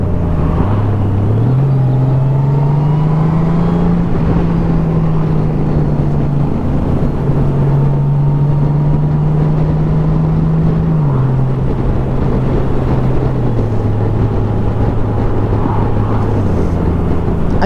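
A Honda Goldwing 1800 DCT motorcycle cruises in sixth gear, its engine giving a loud, continuous low drone with slight pitch shifts, steady wind rush throughout and no talking.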